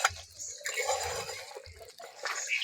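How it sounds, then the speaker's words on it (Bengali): Fried kofta balls simmer in boiling cabbage gravy, with soft bubbling, wet squishing and faint drips heard close up. "এবার ভেজে রাখা কোপ্তাগুলো দিয়ে দেবো। কোপ্তাগুলো 2 থেকে 3 মিনিট ফুটিয়ে নেব।"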